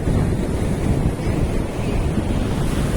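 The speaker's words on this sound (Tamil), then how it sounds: "நல்லா காற்று பயங்கரமாக அடிக்குது" Strong wind gusts steadily across a seashore near Nagapattinam lined with coconut trees, with waves surging and breaking in a constant, loud roar and heavy wind buffeting the microphone throughout.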